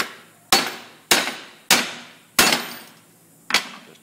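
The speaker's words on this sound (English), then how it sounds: "you can just use a punch and a hammer." Hammer striking a steel punch to knock rivets out of brake lining on a riveter: five sharp, ringing metallic blows at irregular intervals, each decaying quickly, close and loud with no talking.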